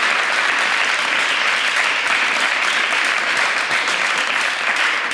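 An audience at a talk about mathematics bursts into loud, sustained applause, a thick, close, continuous roar of clapping hands from start to finish.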